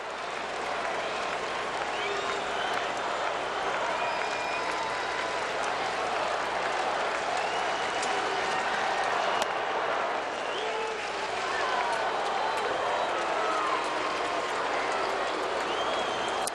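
A baseball crowd at a Brewers home game against the Cardinals roars and cheers continuously, a loud, dense wash of applause and shouting that swells slightly and holds throughout.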